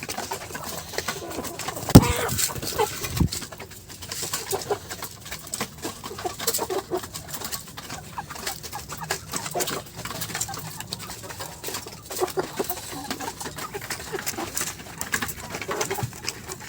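Kuroiler chickens and a rooster on a poultry farm give soft, scattered clucks and calls over a steady background hum, with one sharper call near the start.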